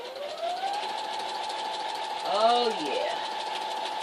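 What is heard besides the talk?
sewing machine free motion quilting on newspaper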